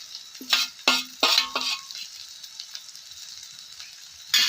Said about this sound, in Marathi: मस्त असं आपल्याला हे एकजीव करून चांगला असा परतून घ्यायचं